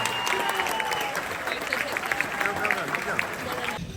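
An audience claps steadily at a high school lacrosse banquet, a continuous patter of many hands in a room with some cheering and chatter mixed in.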